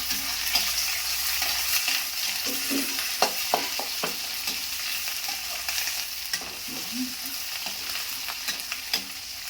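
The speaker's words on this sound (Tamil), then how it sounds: "கொத்து கறிவேப்பிலை, கொத்தமல்லி சிறிதளவு நல்லா வதக்கிக்கலாம்." Curry leaves and coriander sautéing in hot oil with asafoetida, a steady close sizzle with repeated scraping stirs of a spoon through the pan and no talking.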